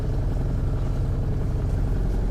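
A 2003 Johnson 70 hp four-stroke outboard idling out of gear while it warms up, a steady low rumble with a fine rapid pulse, close, even and continuous, with no talking.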